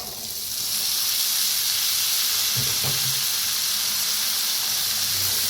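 Bitter gourd drops into a hot pan with roasted coriander powder, setting off a steady loud sizzle and hiss with a couple of soft clunks from the pan.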